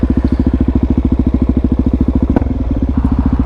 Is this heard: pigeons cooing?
no